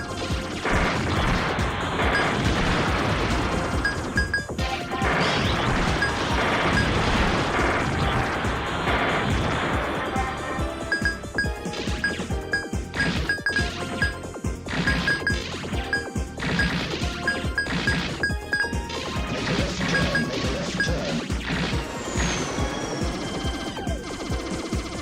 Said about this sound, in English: This is Layer Section, which is a port of the Saturn version